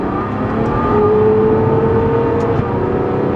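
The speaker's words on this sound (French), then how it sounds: "le dernier shooting break de série V12 atmosphérique Ferrari" Naturally aspirated V12 of a Ferrari shooting break revs steadily and loudly up close, a dense continuous engine roar holding a rising tone with no voices over it.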